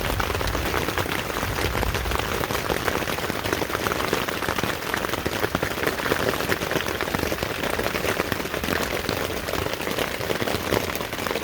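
Rain pattering steadily on a camping tent in West Virginia, a dense, even hiss of drops that holds at constant loudness throughout with no voices.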